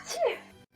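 A single short hay-fever sneeze, close and fairly loud, cuts off abruptly.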